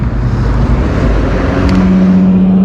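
A car in cross traffic passes close by at a road crossing, a loud steady engine and tyre roar with a low droning hum that holds and slightly swells for nearly three seconds.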